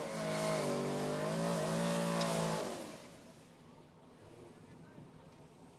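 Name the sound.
Chevrolet Camaro race cars accelerating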